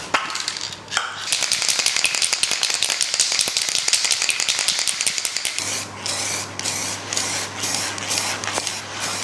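Paint or lacquer sprayed from an aerosol onto a wooden woodturned platter indoors, a steady close hiss running almost continuously, with short pauses and a few sputtering bursts near the end.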